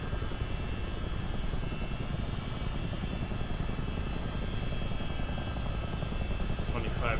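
A CH-47D Chinook helicopter in a video game flies steadily with a continuous low rotor and engine drone. The roar holds even and loud throughout the clip.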